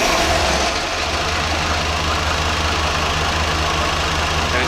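A Chevrolet C10 Stepside engine idles on its own with no throttle, a steady low rumble with a faint knock running close and continuous.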